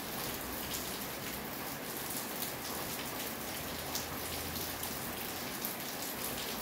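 Steady, dense rain pours down during a thunderstorm during a power outage, a constant hiss of drops on surfaces with no voices.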